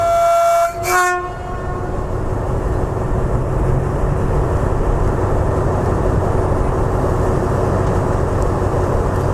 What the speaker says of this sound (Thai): ขบวนรถนะครับกำลังออกจากสถานีชุมทางบางซื่อ